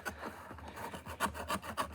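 Rough rasping strokes of an X-Acto knife sawing back and forth through cardboard, close up, with a steady uneven rhythm and a few sharper scrapes.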